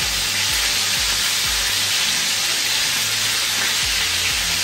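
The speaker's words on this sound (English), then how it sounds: "Then you let it fry for a few more minutes, just brown the other side." Bacon-wrapped lemon and herb chicken thighs fry in a pan with a loud, steady, dense sizzle and hiss, close up and continuous, with no talking.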